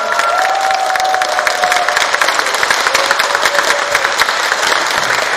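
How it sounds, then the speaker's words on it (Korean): A large crowd applauds steadily for war veterans at an outdoor performance venue, with dense, continuous clapping mixed with some cheering, loud and close throughout. "큰 박수 부탁드리겠습니다"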